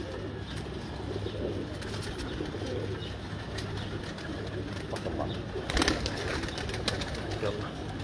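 Pigeons cooing in a loft, low repeated throaty coos layered over one another against steady background noise, with faint voices talking nearby.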